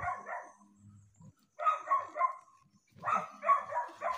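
Several dogs bark in repeated bursts, close and fairly loud, with short pauses between groups of barks and a faint low rumble underneath.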